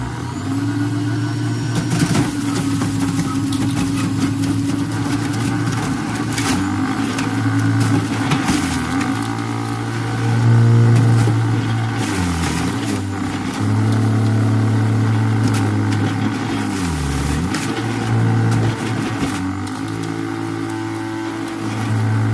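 Breville Juice Fountain Plus juicer motor running steadily and loudly up close, a continuous hum with shifting pitch as apples are pushed through, no talking.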